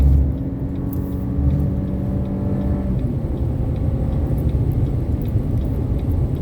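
A Chevy Colorado pickup truck accelerating hard on the highway, a loud steady engine drone and road rumble from inside the cab, the engine note rising then blending into a continuous roar.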